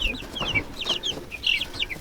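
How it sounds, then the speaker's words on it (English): Meat chickens on a homestead cluck and squawk in a busy, overlapping chorus close by, with short repeated calls throughout and no talking. "We got some meat chickens in there."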